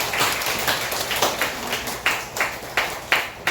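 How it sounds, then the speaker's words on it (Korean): Church congregation clapping, a moderate group of hands that settles into distinct, fairly regular claps toward the end, fairly close with no talk over it. "우리 하나님 앞에 영광의 박수 올립니다."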